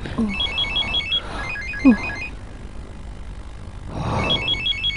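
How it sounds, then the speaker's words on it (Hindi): A telephone rings in repeated trilling bursts separated by short pauses, fairly close, over a low background murmur. "इसका फोन है नजीब।"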